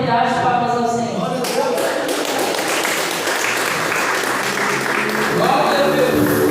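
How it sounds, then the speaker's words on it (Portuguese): A church congregation at a healing service claps in praise, a steady crowd of hands beginning after a voice fades and continuing alongside some speech and a brief musical tone. "E eu agradeço a minha oportunidade de palmas ao Senhor."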